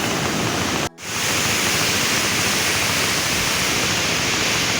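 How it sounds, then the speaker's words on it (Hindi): Loud, constant rushing water roars close by at a village location, a dense broadband wash that briefly cuts out for a moment near the start before surging back steadily. "बहुत इतना मज़े का सीन है और इतना शोर है पानी का"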